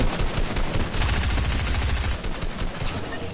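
Video game gunfire aimed at the player, loud rapid shots in a continuous machine-gun-like stream that dominates the whole moment.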